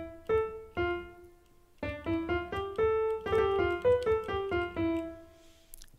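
A digital piano set to a jazz club reverb plays a short phrase of clear, ringing notes: two held tones, then a quicker run of notes with a light, close room tail.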